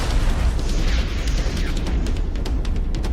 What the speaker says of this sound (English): I could shoot the tank now, use it to blow off the golem's arm